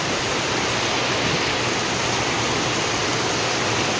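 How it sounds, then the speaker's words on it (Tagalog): Floodwater rushes steadily during heavy rain and wind, a dense, loud, unbroken roar of flowing water with no voices. "Baha sounds."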